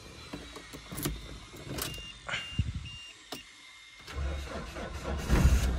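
A car engine turns over and starts after a few faint clicks and shuffles, then a low, quiet rumble builds near the end, heard from inside the car.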